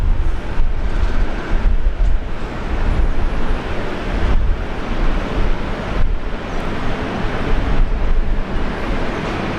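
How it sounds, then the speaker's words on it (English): An Air New Zealand Boeing 777-300ER jet taking off fully loaded at Brisbane Airport, a loud continuous engine roar with rough, wind-buffeted rumble that holds steady throughout. "Air New Zealand 777-300 ER. These sound great, fully loaded, coming out heavy."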